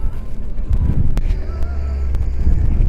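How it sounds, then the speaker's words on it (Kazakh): Strong wind buffets the microphone outdoors at a car market, a loud continuous low rumble with gusty surges and a few sharp clicks. "Өте қатты жел, даусымыз дұрыс шықпай қалса, айып етпеңіздер."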